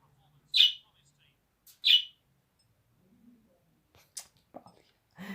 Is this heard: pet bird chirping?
yes